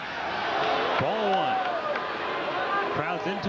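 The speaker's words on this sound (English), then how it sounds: "Crowd's into it on every pitch." Baseball crowd of about nine thousand fans at the 1993 Triple-A Championship Game 4 between the Iowa Cubs and Nashville Sounds, roaring steadily through a pitch with a broad, sustained din and a commentator talking over it.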